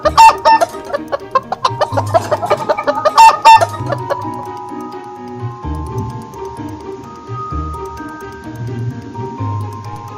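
A chicken clucks repeatedly up close in loud, choppy bursts, then softer scattered clucks follow over a quieter background.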